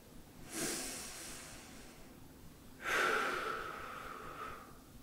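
Heavy breathing during a shoulder mobility stretch, with two close, audible breaths: a short exhale early on, then a longer, louder breath that trails off. No talking.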